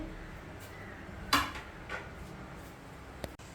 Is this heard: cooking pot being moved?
yes